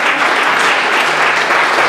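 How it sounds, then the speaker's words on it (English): A church congregation claps for a reverend, a brief, loud, continuous wash of hand clapping with no voices. "Y'all give him a hand clap."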